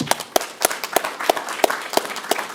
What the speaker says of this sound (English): Everyone give a round of applause again